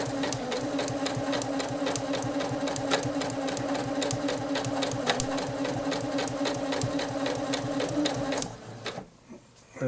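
A Janome 8077 sewing machine stitching with a steady, fast mechanical whir and needle chatter, close and loud, then stopping near the end.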